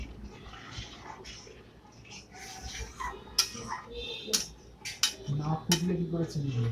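Suji in milk is stirred slowly in a pan, with irregular spoon clinks and scrapes against the metal over a soft background, close and moderately loud, with faint voice at times.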